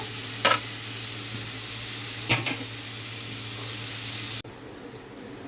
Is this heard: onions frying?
yes